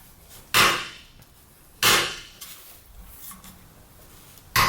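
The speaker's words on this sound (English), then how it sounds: "And just hit it with the hammer." Three sharp hammer strikes ring out on a metal washer during a Briggs & Stratton engine teardown, at irregular intervals, with quiet pauses between them.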